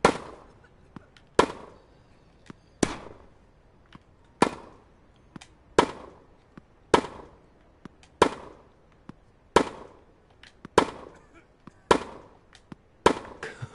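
Hard-hit tennis shots in the Tennis World Tour video game, sharp loud pops recurring about every second and a half, with softer bounce ticks between them and no talking.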